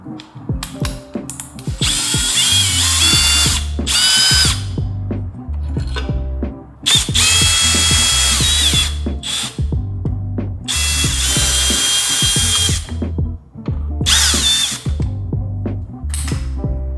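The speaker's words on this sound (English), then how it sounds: "We're gonna go ahead and bust out the power tools to make our job easier" A power drill backs screws out of a car bumper during a black optics grill install on an Audi R8. It comes in repeated loud bursts of whirring and ratcheting with short pauses between them.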